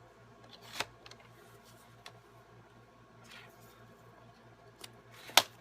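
Scissors cutting a chunk of card for a Thanksgiving card: a few sparse, quiet snips and paper rustles in a hushed room, with a sharper crisp cut near the end.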